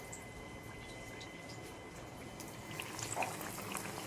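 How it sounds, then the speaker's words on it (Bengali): Brinjal slices fry in a pan without turmeric in a home kitchen, giving a soft, continuous sizzle and crackle with a few small pops, fairly faint throughout. "এই যে বেগুন ভাজা হচ্ছে"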